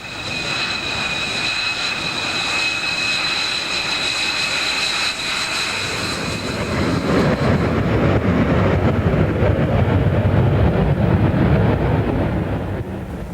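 A KC-10 Extender tanker aircraft flies with its engines giving a loud, steady jet roar with a whining tone. The roar holds throughout and grows fuller and deeper in the second half, with no voices.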